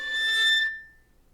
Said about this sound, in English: you can play something called a harmonic